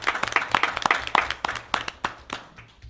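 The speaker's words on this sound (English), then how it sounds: "So let's have an applause for both of those great accomplishments." Audience clapping at a school board of education meeting, a burst of many hands applauding together that thins out and fades over about three seconds, with no talk over it.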